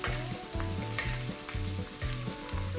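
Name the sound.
steak searing in foaming butter in a pan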